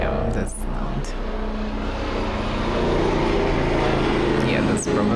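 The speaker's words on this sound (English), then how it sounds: "There are sometimes helicopters or whatever things flying very close." A helicopter or other aircraft flies very close overhead, a loud, steady roaring rumble that fills the whole stretch and swells slightly louder toward the end.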